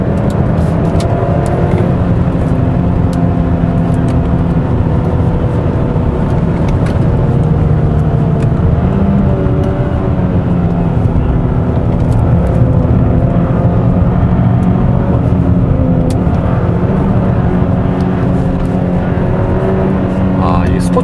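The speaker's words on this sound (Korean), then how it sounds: "스포츠 모드에서는 다운시프트 할 때 뭔가 되게 힘이 센 엔진처럼 변속기가 변속을 하네요." A 2021 Hyundai Sonata N Line in sport mode downshifts with rev-matching on the Inje circuit, its engine droning steadily and loud with shifting harmonics throughout, under a voice talking over it.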